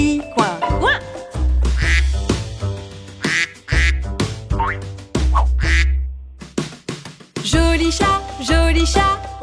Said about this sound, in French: le canard ait dit coin, coin